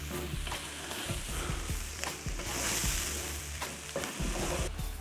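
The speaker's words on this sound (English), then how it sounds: "Keep stirring." A chicken curry casserole being stirred in a pot, with steady scraping and clattering strokes over a constant low sizzle, close and fairly quiet, with no voices.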